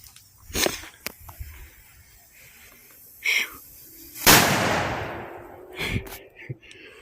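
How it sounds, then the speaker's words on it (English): A quarter stick firecracker set off outdoors on the Fourth of July gives one loud, sharp bang with a rumbling tail, among a few smaller pops and cracks, under brief voices. "Okay, quarter stick. Oh shit, here we go, kaboom."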